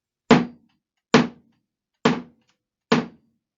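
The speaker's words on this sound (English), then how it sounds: "You may recognize that sound as the sound of the thud of a hammer." Four sharp, solid thuds of a hammer, evenly spaced about a second apart, each a short dull impact with a quick decay into silence, heard alone and close.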